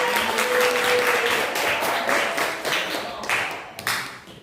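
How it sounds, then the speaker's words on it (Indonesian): Applause from a classroom audience after a group's presentation in an Indonesian language lesson, a dense burst of clapping that holds steady for a few seconds then thins out toward the end. "Beri tepuk tangan untuk kelompok 4"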